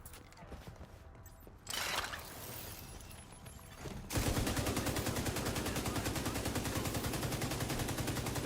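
Rapid automatic gunfire from The Division 2 video game, starting with scattered shots and building to a loud, sustained burst of evenly spaced rounds in the second half, with faint voices underneath.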